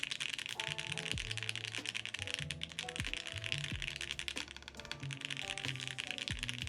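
Typing on a Space 80 Apollo TKL mechanical keyboard fitted with Gateron Oil King switches, close and quiet, with steady deep clacky keystrokes and occasional heavier thocks from larger keys, no talking.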